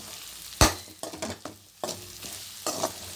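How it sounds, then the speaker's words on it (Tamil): A spoon stirs egg garlic thokku frying in a pan, making close scraping strokes and knocks against the metal over a soft continuous sizzle. "இப்போ இதை நல்லா கலக்கி விட்டுட்டு நம்ம அடுப்பை நிறுத்திடலாம்."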